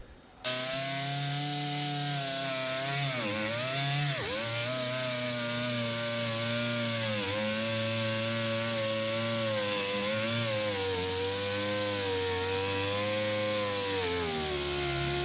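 A power tool cuts a Lexan sheet for a Foxbody Mustang window, a loud, steady high-pitched whine that wavers slightly in pitch as it works through the plastic, continuous and close.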